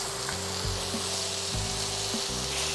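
Chunjang black bean paste fries with vegetables in a hot pan for jajang sauce, giving a steady loud sizzle with occasional stirring scrapes and no talking.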